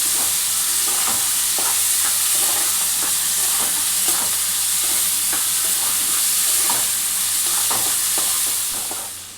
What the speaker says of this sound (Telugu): ఉల్లిగడ్డ పచ్చిమిర్చి ఇట్లా మంచిగా వేగింది